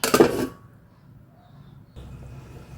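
Metal lid set down on a pot of simmering chicken gravy, a single brief clatter at the start, then a quiet low bubbling hum.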